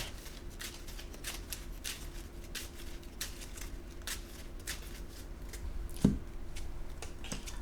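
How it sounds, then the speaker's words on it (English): Board game cards are shuffled close by in a quiet room, a soft continuous papery riffling and patter with one brief louder knock near the end. "we'll shuffle in the red key"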